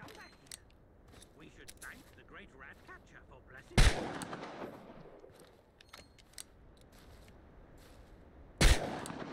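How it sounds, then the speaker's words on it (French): Gunfire in the video game Chernobylite comes as two loud, sharp shots several seconds apart, each with a rolling tail, over quiet background sounds with faint clicks. "Ah, les coups de fusil."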